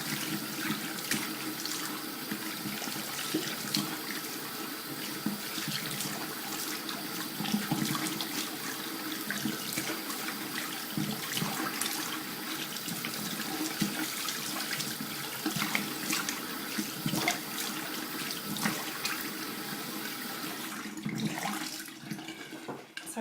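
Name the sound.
water running from faucet while rinsing face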